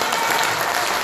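Dense applause from an audience at a book concert in Daegu, loud and steady throughout, a continuous wash of clapping up close.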